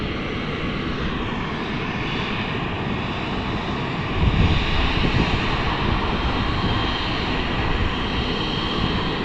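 Airplane engine roar on the runway at London City Airport, a steady broadband rumble with a plane waiting to take off at the far end, swelling somewhat louder midway through.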